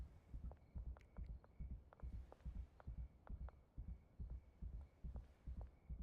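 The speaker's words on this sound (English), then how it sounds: "I can hear the heartbeat" A heartbeat status effect in the video game Schedule I: steady, muffled low thumps in paired beats, evenly repeating about once per second, quiet and alone.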